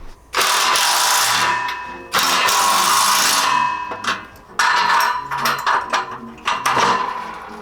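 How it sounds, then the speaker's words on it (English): A power drill cranks the bolts of a cable stack column during assembly of a Better Body functional trainer, loud bursts of whirring with ratcheting clatter that stop and restart several times. "I'm gonna crank this one with a drill"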